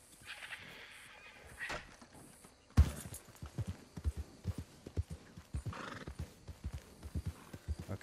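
A horse in the video game Red Dead Redemption whinnies, then its hooves clip-clop in a steady galloping rhythm, close and fairly clear, following a sharp thud.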